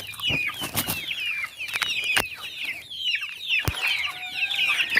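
Free-range chicks and chickens squabbling over azolla feed, with busy clucking and high chirping calls, sharp pecking and scratching taps, and occasional wing flutters, close and lively with no talking.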